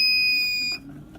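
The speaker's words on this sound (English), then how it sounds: "This is going to beep really loud." A loud, piercing electronic beep from a Nurture Right 360 egg incubator alarm sounds steadily, then cuts off abruptly, leaving quiet room noise.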